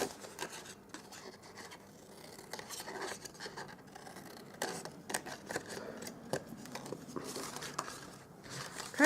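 Scissors snip through card-stock papercraft box flaps to miter them, a quiet run of small close cuts and paper rustles with no talking.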